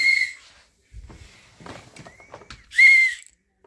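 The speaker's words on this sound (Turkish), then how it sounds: "düdük mü çalıyorsun?" A shrill whistle is blown twice, short loud blasts separated by a quiet gap with some faint rustling and clatter.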